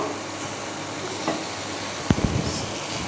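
Potatoes tipped into a hot pan and stirred while cooking Bengali khichuri, a low steady sizzle with a brief thud and scraping as they go in near the end.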